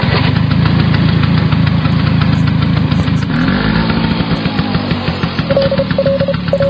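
A new scooter's small engine runs close and loud, with a rapid rattling, knocking beat that shifts pitch midway, then settles into a slower chug.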